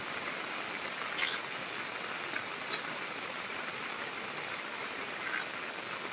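Heavy rain pours outdoors during mango sapling grafting, a steady dense hiss with a few sharper drips standing out now and then.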